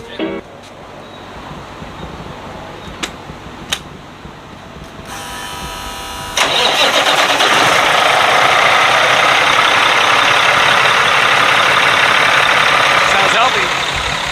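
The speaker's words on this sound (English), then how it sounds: "Let's turn the motor on." A brand-new Peterbilt truck's big engine turns over after a few quiet seconds and then settles into a loud, steady, close idle that runs to the end.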